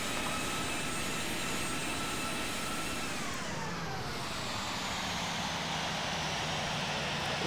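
Airliner taking off in the flight simulator game Infinite Flight, a steady whining engine roar with a tone that sweeps downward midway, continuous and even throughout with no talk.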